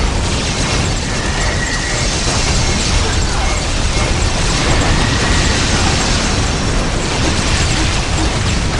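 A dense, continuous roar of explosions and battle noise in the video game Warhammer 40,000 Dawn of War, Winter Assault, loud and sustained throughout with no pauses.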